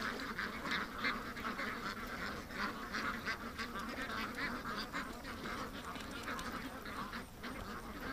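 Ducks quack and honk continuously in a busy, overlapping chorus, moderately close, with no pauses across the whole stretch.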